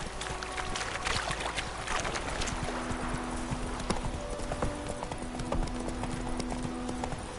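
Geralt's horse Roach galloping in The Witcher video game, a steady rapid clip-clop of hooves that runs continuously and fairly close.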